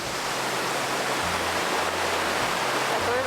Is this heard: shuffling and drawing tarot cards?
no